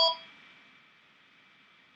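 A home telephone line gives a single short electronic ring tone that cuts off quickly, leaving a faint steady hum trailing behind it.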